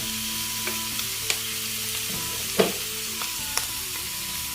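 Food is stir-fried in a hot pan with a steady, close sizzle. Occasional spatula scrapes and taps ring out against the metal.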